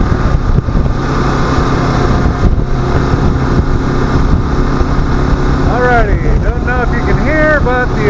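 A 2022 Kawasaki KLR 650 motorcycle cruises on the highway with a loud, steady engine drone under heavy wind rush. A brief high whine sweeps up and down near the end.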